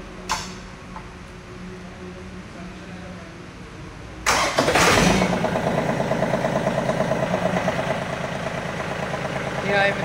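A John Deere 3028EN 4WD tractor's diesel engine cranks and fires about halfway through, then settles into a loud, steady idle with a rhythmic chug over a low background hum.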